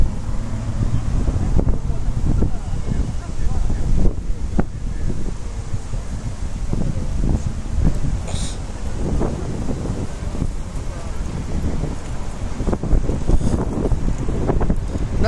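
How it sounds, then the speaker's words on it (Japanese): Strong wind buffets a microphone outdoors in Shinjuku, producing a continuous, loud low rumble and roaring gusts for the whole stretch, with a voice speaking underneath. "台風並みに風がすごいよ"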